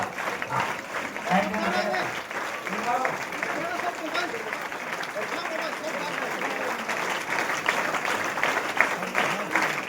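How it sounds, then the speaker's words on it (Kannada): At a ceremony honouring farmer leaders in a village in Bagalkot district, a crowd claps in a sustained, moderately distant wash of applause. Voices and announcements are heard over it. "ಜೋರ್ಲಿ ಚಪ್ಪಾಳೆ ಸೆಕೆಂಡ್ ಮಾಡ್ರಿ"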